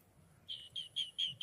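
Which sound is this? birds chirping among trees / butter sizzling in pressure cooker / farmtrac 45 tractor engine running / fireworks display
birds chirping among trees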